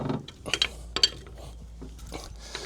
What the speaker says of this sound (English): we can use the wheel brace to tighten the wheels up as tight as you can